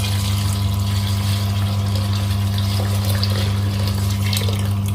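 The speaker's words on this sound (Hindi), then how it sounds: "इस स्टेज पे आपको जितना शोरबा चाहिए उतना पानी डाल दें" Water runs into a pot of simmering potato chicken curry, a steady rushing pour with a constant low hum underneath, close and fairly loud, unbroken for several seconds, no voices.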